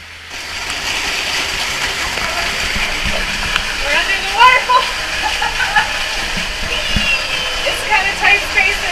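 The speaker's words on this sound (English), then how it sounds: "this beautiful waterfall inside a cavern" A steady roar of a waterfall inside a cavern in Oman, water splashing continuously and echoing in the enclosed space, with faint voices drifting over it.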